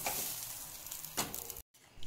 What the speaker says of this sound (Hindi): देखिए हमारा तड़का तैयार है, अब हम गैस बंद करेंगे।